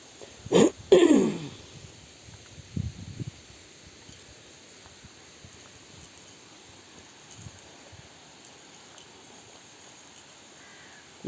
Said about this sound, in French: Et les oiseaux, je ne sais pas si vous les entendez.